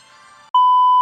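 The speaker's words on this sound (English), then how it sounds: "That might even be my phone." A phone gives a short chirp followed by a loud, steady electronic beep tone that holds to the end, preceded by a faint tonal hum.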